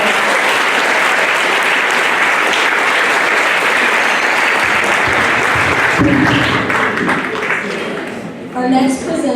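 A middle school audience at a 7th grade academic awards ceremony gives sustained applause for honoured students. The clapping is loud and steady, then thins out near the end as a voice starts to speak.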